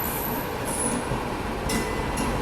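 Rumbling and clatter of the Udaipur City–Khajuraho Express rolling past, heard from aboard another train near Agra Cantonment, with a steady dense roar of wheels and cars throughout.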